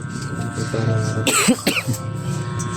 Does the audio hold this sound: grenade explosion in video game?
no